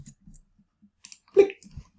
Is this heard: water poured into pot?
no